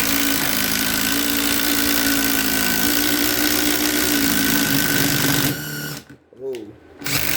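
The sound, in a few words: Ridgid sub-compact impact driver driving into Speedboard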